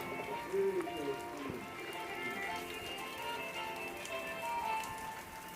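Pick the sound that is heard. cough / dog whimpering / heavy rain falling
heavy rain falling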